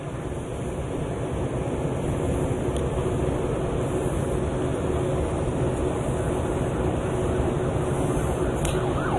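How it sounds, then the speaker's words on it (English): A steady, dense wash of noise with a faint siren wailing far off beneath it during a state trooper's funeral procession, continuous throughout with no voices. "You can hear the sirens in the distance."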